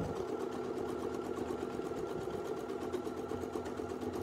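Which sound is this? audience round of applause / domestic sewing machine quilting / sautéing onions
domestic sewing machine quilting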